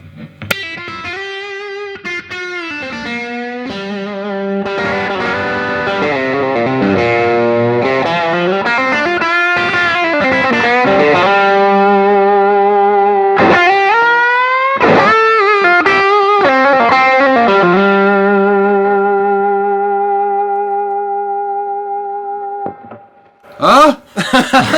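An electric guitar runs through a Way Huge Doubleland overdrive with a 500 Hz midrange boost. Loud, saturated chords and bends ring out over about twenty seconds, trailing off into brief silence before a final strum.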